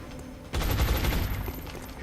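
Suppressive gunfire in XCOM Long War erupts suddenly after a brief quiet, then keeps up as a loud, sustained burst of rapid shots.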